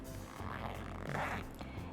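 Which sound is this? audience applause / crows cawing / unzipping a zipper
unzipping a zipper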